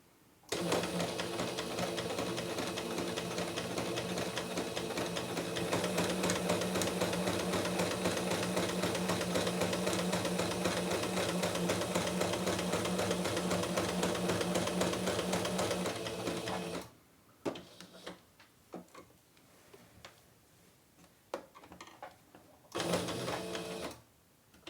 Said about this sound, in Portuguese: Pra continuar costurando dentro do desenho.